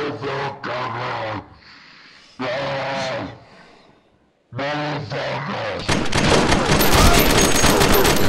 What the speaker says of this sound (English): Oh, I see Ihsahn shooting or something.